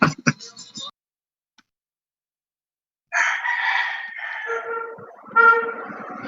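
Roosters crowing outdoors: a short burst of sound at the start, a pause, then a loud, drawn-out crow with harmonic, wavering tones lasting several seconds, close and clear.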